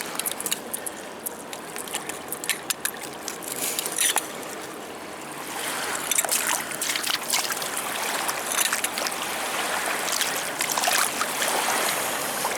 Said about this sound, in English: I'll give it a little rinse off here and then pop it in a bag.